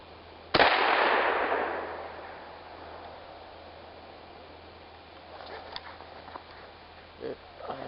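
A single sharp, loud gunshot from a 1951 Tula SKS rifle in 7.62x39, fired at clay targets outdoors. The report rings out and decays over a couple of seconds, followed by faint clinks and a few quiet words.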